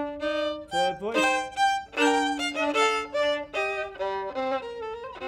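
Bach fugue with four voices entering one after another, sustained tonal melodic lines layering over each other at a steady, fairly loud level with no talking.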